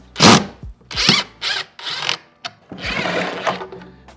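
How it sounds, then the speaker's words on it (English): A power drill or driver backs bolts out of a cabinet mounted on a garage wall, giving a string of short close whirring bursts followed by a longer run. "Just take out all the bolts that are holding her on."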